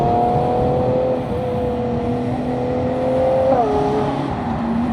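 Red Mazda RX-8 driving past on a city street, a steady close engine drone with a slight rise and fall in pitch, no voices.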